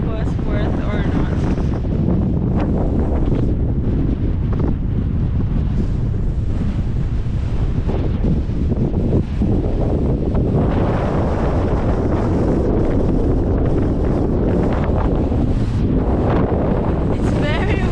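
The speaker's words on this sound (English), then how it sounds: "It's very windy" Strong wind in Patagonia batters the microphone in a dense, continuous roar for the whole stretch, loud and unbroken, with no voices over it.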